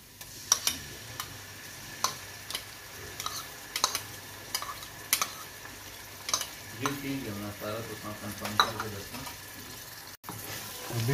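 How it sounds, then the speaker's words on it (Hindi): Ginger garlic paste being stirred into light-brown onions frying in oil in a pan, with steady sizzling and repeated clicking scrapes of a spoon against the pan, close and alone without talk. "अभी इसको हम अदरक लहसुन के पेस्ट को भी मिक्स कर लेते हैं।"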